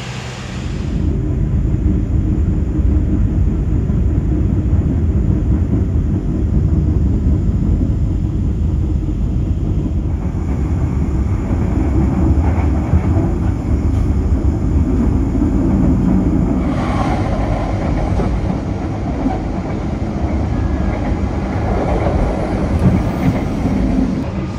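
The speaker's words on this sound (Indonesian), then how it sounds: "Jadi kereta Kamandaka sudah meninggalkan stasiun Bumi Ayu yang merupakan stasiun singgah terakhir" A Kamandaka economy-class passenger train runs on after leaving Bumiayu station, a steady loud rumble of wheels and carriage noise heard from inside the car, continuous throughout with no speech.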